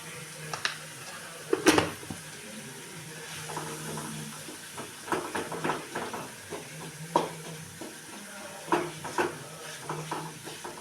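Bitter gourd sabzi with chilli powder is sautéed in a pan, giving a faint, low sizzle under repeated close scrapes and clinks of a spoon against the metal, uneven and intermittent.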